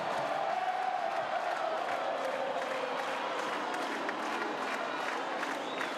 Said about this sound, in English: A buoyant crowd here at Estadio Fello, Meza